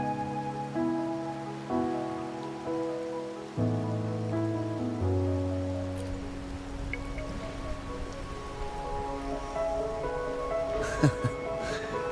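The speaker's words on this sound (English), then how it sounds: "Or are you simply passing the time until the rain ends?" Steady rainfall in the video game Wuthering Waves, a continuous patter running throughout beneath layered sustained music tones.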